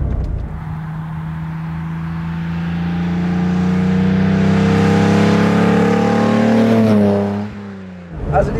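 A 1956 Mercedes 300 SL Gullwing with sidepipes runs close by, its engine holding a steady, loud drone that builds and swells, then drops sharply near the end before picking up again.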